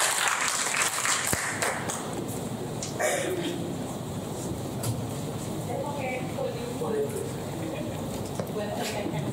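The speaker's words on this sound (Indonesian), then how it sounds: "Tepuk tangan dulu semuanya Smart People." Audience clapping at a campus talk on digital-era work, brisk at first and then thinning to scattered claps under room noise as a speaker begins talking.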